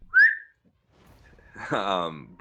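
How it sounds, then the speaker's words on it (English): A sharp whistle rises at the start in a bright, piercing burst, then fades. Quiet talk follows and builds into fuller speech near the end. "Look over at Stone Skull and give a sharp whistle."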